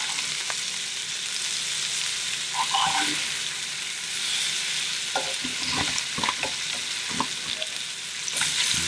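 Mahi and tuna fillets sear in a hot pan, giving a steady close sizzle and hiss with a few scattered clinks and taps from handling, no talk over it.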